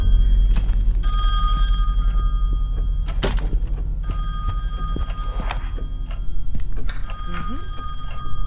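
A telephone rings inside the horror video game Song of Horror, H. P. Lovecraft episode, its bell bursts sounding over a low droning ambience with occasional thuds, fairly close and steady.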